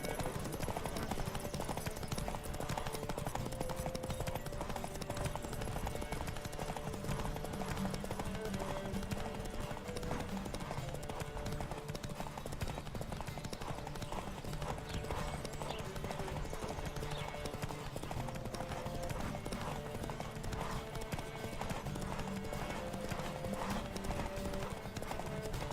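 A horse gallops flat out in a race in the video game The Witcher 3, its hooves drumming in a fast, unbroken clip-clop rhythm that stays close and steady, with faint voices now and then.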